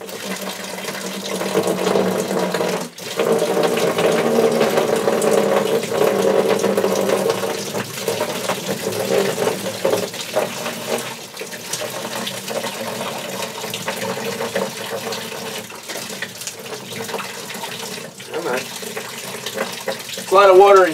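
Steady water flowing and splashing out of a Sterilite S8Q UV water filter for most of the stretch, fairly loud and continuous, with a few brief interruptions and faint clatter.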